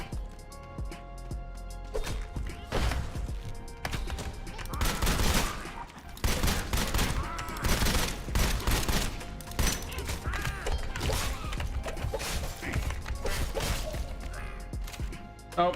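Dense, continuous gunfire in the video game Sulfur: loud overlapping shots and crashing impacts run the whole time in a busy, chaotic barrage with little pause.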